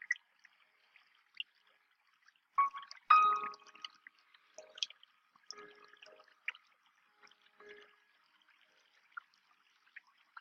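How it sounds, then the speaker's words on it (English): Gentle water rippling and dripping in a calm relaxation setting, soft scattered trickles and small splashes with one brief louder burst near the start, otherwise quiet and intermittent. "Listen to the water rippling."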